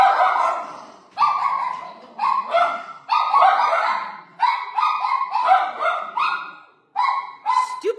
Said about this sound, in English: rather than my dogs charging out there, they're like, no, we're just going to sit on the sofa and bark from here